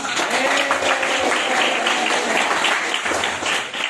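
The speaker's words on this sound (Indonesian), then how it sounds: "Katong beri aplaus yang luar biasa dulu" A seated audience claps at an Indonesian community gathering, with dense, sustained applause holding at an even level for several seconds and voices blended into it.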